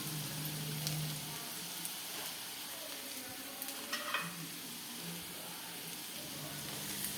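Onions sautéing in a pan, a soft continuous sizzle with occasional stirring scrapes, fairly faint and steady throughout.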